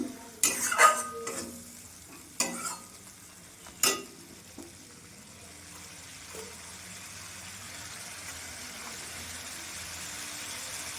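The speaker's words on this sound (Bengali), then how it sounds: "মশলাটা আমি এখন কষিয়ে নেব।" Spice paste sautéed in a pan for a Bengali kalmi greens dalna, with a few loud scraping stirs early on, then a faint steady sizzle carrying on quietly underneath.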